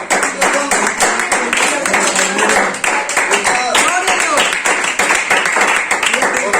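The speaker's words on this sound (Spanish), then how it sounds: "denle un fuerte aplauso a la" A church congregation at a Pentecostal service gives hearty applause, loud close clapping with distinct individual claps, and voices call out over it.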